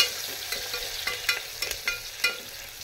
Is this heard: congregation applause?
no